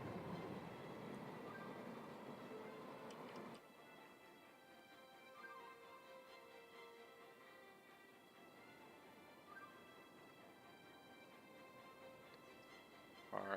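A metro train in the city-building game Cities: Skylines, a faint steady rumble with tonal hum and quiet wheel noise, fading slightly after a few seconds and continuing alone without talk.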